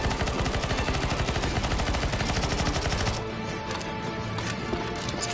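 Rapid automatic gunfire from the video game CS:GO, played in zombie escape mode, bursts loudly and continuously for about three seconds, then drops to a few scattered distant shots.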